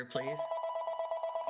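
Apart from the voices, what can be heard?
mobile phone ringing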